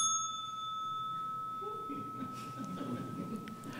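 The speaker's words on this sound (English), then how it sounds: "Ring the bell." A single small bell rings out at a poetry reading, its clear tone sustaining and slowly fading while murmuring voices and room noise rise underneath.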